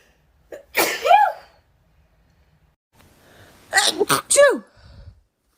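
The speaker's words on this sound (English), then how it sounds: "I feel a big sneeze coming on." Allergy-season sneezing from a woman, close and loud: one sneeze, a pause, then a quick double sneeze in a row.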